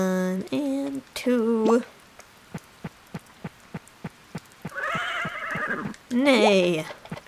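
Horse neighing in the farming video game Harvest Moon: Save the Homeland, two whinnies at the start and two more near the end, separated by a run of evenly spaced clip-clop hoof taps over a soft rain-like backdrop.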